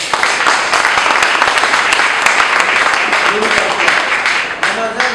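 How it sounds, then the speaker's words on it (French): Guests at a civil wedding ceremony clap in loud, sustained applause, with voices and chatter mixed through the crowd noise. "Veuillez vous lever, applaudissez pour ce groupe."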